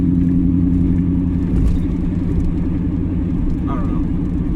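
A C4 Corvette with its muffler and resonator removed gives a deep, loud, raw exhaust drone that stays close and fairly steady through the run.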